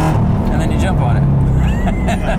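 Inside a car, hard acceleration brings a loud rising engine roar as the butterfly-valve exhaust mufflers open, with rising tones that sweep up across the shifts, heard under people talking in the cabin.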